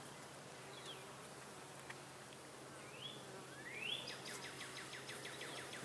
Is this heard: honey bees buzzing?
yes